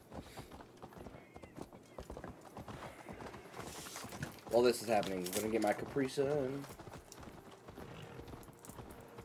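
Horse hooves clip-clop in Assassin's Creed Valhalla as a steady, quiet rhythm of light footfalls beneath game dialogue, with someone talking over part of it.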